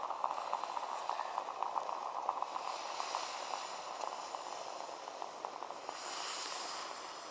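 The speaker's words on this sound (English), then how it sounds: "You can see the first bubbles." Turkish coffee coming to its first boil outdoors, a steady soft bubbling and hissing with faint crackles, close and continuous, no voices.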